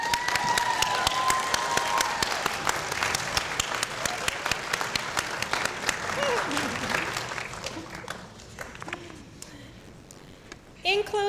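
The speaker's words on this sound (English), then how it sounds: "give a nod, a wave, a whoop, or some claps in thanks to those important people who have served as your supporting cast" A ceremony audience applauds steadily for several seconds, a whistle or whoop rising briefly early on, the clapping thinning and fading toward the end before a short final burst.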